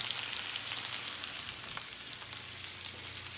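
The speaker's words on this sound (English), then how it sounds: "Now, I think we're ready for a deglaze." A pan in which salmon was just cooked sizzles steadily as it is deglazed, a dense close crackle of frying that holds at an even level throughout with no talking.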